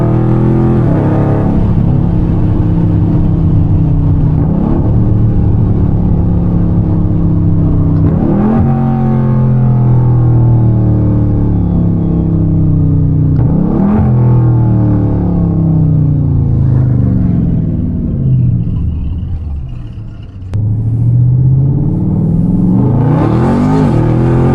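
A tuned 392 Scat Pack V8 roars through repeated hard accelerations from inside the car, each pull rising in pitch before a gear change drops it back, loud and close with no talking.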